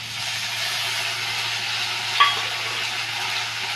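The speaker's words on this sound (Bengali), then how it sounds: "পেঁয়াজগুলোকে লাল করে ভেজে নিয়েছি, এবার আমি টমেটো কুচিগুলো দিয়ে দেবো।" Chopped tomatoes added to onions already fried red in a pan, giving a steady, fairly loud sizzle with a brief clink of a utensil midway and no voices.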